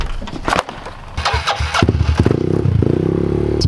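A pit bike with a newly fitted exhaust starts up and revs, its engine climbing into a loud, steady buzzing drone close by.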